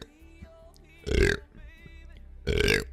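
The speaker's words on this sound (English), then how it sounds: "100 burp challenge" Two loud, close burps about a second and a half apart, each a rough, resonant belch lasting roughly a quarter second, over quiet background game music during a streamed burping challenge.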